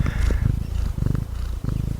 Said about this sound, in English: And can you hear the cat purring?